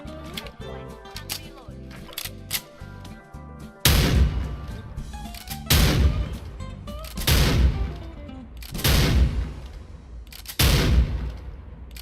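Barret Siege sniper rifle fire in Special Force 2 gives five loud, sharp shots spaced roughly two seconds apart, each with a ringing tail. Mechanical clicks sit between them and a voice talks softly.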